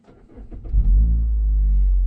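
A 4th-gen Mazda3 fitted with a CorkSport axle-back exhaust cranks briefly, then catches into a deep, loud, close rumble that settles into a steady idle.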